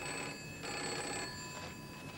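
An old telephone bell rings faintly in a 1985 indoor setting, a continuous metallic trill with a pulsing rhythm over quiet room noise, and nobody speaks.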